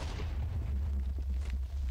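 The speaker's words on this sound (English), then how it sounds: "Oh, explosions are different." A muffled, booming explosion in the Minecraft video game, a dull low rumble lasting under two seconds with a few brief crackling bursts.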